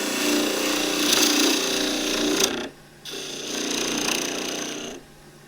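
A wood-turning gouge cuts into wood spinning on a lathe, producing a loud, harsh, rapidly chattering cut in two bursts separated by a brief pause, then a quick stop.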